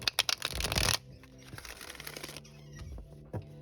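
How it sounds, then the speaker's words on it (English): Tarot cards being shuffled by hand, a sharp riffling burst of flicking cards up close, then quieter sliding and tapping as the deck settles, with a final soft snap. "when you do a shuffle, you're bending them this way"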